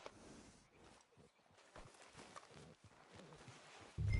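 Faint hooves clip-clop at a walking pace as a horse moves in a PS4 video game, soft, steady steps under low background noise, ending in a louder burst.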